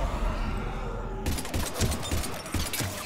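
Gunfire in the video game Mass Effect 3, a dense burst of rapid shots over a constant game background, close and fairly loud.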